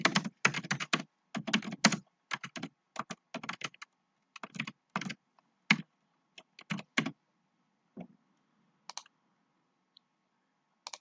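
Someone types on a computer keyboard while writing a personal blog page: quick clusters of crisp key clicks separated by short pauses, close and clear, thinning out toward the end.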